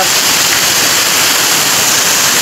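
A waterfall's dense, loud roar of rushing water hangs as a constant broadband wash, with no break in it.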